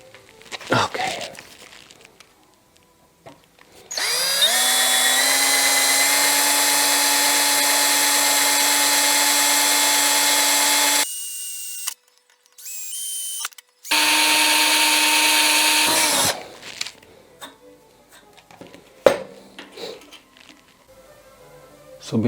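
A power drill whirs loudly in two sustained bursts with a short pause between, its motor pitch steady, followed by scattered handling clatter.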